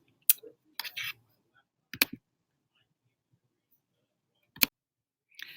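A computer mouse clicks while editing in WeVideo: a few sharp, isolated clicks spaced seconds apart, close and crisp, with brief soft handling noises between them in an otherwise quiet room.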